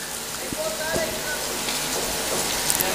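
Steady rain hisses over a rural cricket tournament ground in Badlapur, with a few faint thuds and a voice speaking under it.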